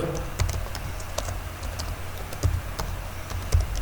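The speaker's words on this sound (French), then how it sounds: "je tape Checker Framework" Typing on a computer keyboard, close and clear, with irregular key clicks and a few louder taps spread across a few seconds, no talk.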